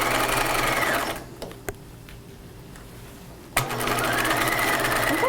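A sewing machine sews a shoulder seam on a cropped retro jacket, running fast and steady, pausing for about two seconds with faint clicks, then starting up again at full speed.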